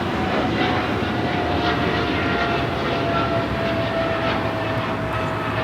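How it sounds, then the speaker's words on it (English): A China Cargo Airlines Boeing 777 freighter takes off from Los Angeles airport, a steady broadband jet roar with a faint whine that holds loud and even throughout, with no voices. "the Cargo King 222, taking off to Shanghai on the 777 freighter"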